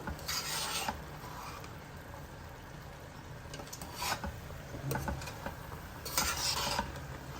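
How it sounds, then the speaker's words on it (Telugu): Jowar rava upma with mixed vegetables being stirred in a pan, a steady scraping and rubbing with brief louder bursts at intervals, close and alone with no talk. "మంచిగా ఒకసారి ఇలా మిక్స్ ఇచ్చేసుకుందాము"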